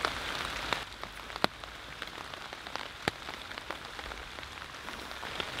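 Rain falling at night, a steady soft hiss of drops on surfaces with occasional sharper drips, fairly faint and without voices.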